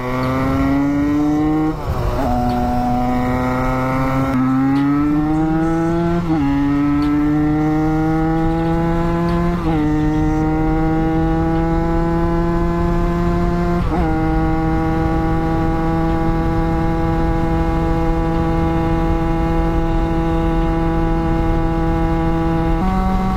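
A Derbi moped engine revving while riding, a loud close buzzing two-stroke whine that climbs through several gears, dropping in pitch at each shift before rising again, with no talking.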